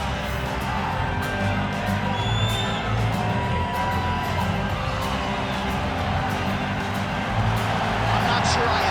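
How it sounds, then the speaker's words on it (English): A simulated arena crowd at the Bell Centre in Montreal in the game UFC 5, a dense, steady roar of cheering and scattered whoops with a few sharp accents, under a commentator's voice. "I'm not sure I have ever heard a louder crowd in any arena in the world than this here at Bell Center in Montreal, Quebec, Canada"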